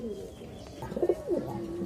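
A pigeon coos nearby in a soft, throaty, rolling call, repeated a couple of times over faint background noise.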